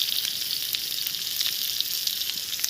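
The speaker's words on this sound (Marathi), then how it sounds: "आता मच्छी फ्राय करून घेते बघा, मस्त अशी तव्यावर चुलीवर छान मस्त" Fish fries on a griddle over a wood-fired clay stove, giving a continuous close sizzle with small crackling pops and no talking.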